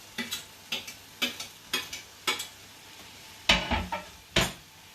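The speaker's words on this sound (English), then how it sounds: "grated 1 white onion. And we're going to put that straight into the pan" Grated white onion frying in a pan over medium heat, with a utensil stirring and scraping in a steady series of close clicks and two louder sizzling scrapes near the end.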